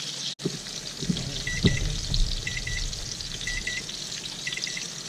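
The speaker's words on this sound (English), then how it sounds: "That's the alarm going off." A kitchen timer alarm repeats in short double beeps over the steady sizzle of trout frying in a pan, the beeps moderately loud and regular above the crackling oil.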